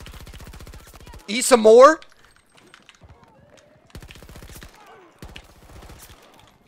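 Rapid SMG fire in the video game Battlefield 2042 comes in short, crisp bursts with quiet gaps between them, while a voice briefly speaks over one stretch.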